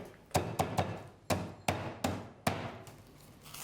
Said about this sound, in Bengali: বড়িটাকে গুঁড়ো করে নিলাম।